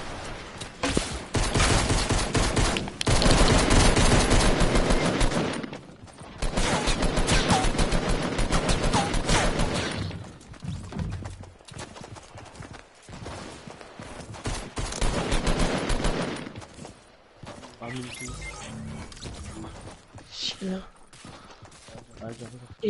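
Bursts of submachine gun fire in a battle royale video game, loud and sustained rapid volleys that cut out and resume several times, with faint game noise between them.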